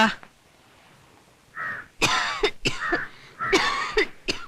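A series of harsh, raspy coughs close up, coming in quick irregular bursts after a quiet start.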